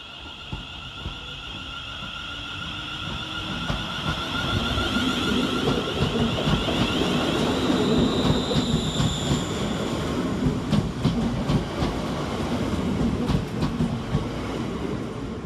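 A West Midlands Railway class 350 electric unit pulls away from Walsall station, its motor whine rising with tonal hums while wheels rumble and clack over the rails, building louder and closer midway before holding steady.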